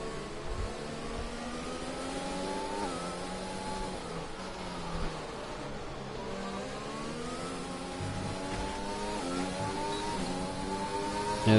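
Race cars in a GTR league race at the Vietnam circuit accelerating down a straight, several engines droning and climbing in pitch together with layered whining tones, steady and fairly loud, no voices.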